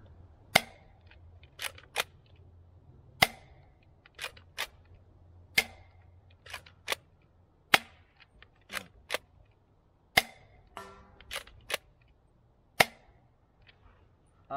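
Repeated foam dart shots from a DZP Mk 2 blaster fired at a 40-foot target outdoors, sharp separate pops roughly every second over about fourteen seconds, each with a brief airy snap, irregular spacing, nearby and fairly loud.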